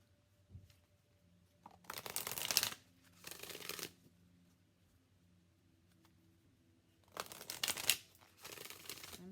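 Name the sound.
shuffling oracle cards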